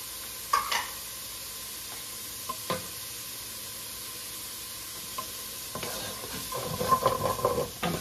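Peppers frying in a pan with sausage give a faint, steady sizzle, broken by a few light clatters of stirring and a louder rustling stir toward the end.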